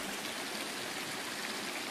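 A creek on a rocky trail in the Serra da Jibóia, Goiás, flows in a steady, broad wash of rushing water that stays soft and even throughout, with no voices over it.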